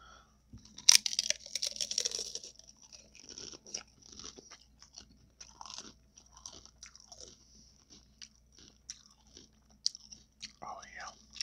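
Crunchy tacos bitten and chewed up close in a whispered eating session, with loud crisp crunches and crackles in bursts, followed by steadier chewing; soft speech is heard in between.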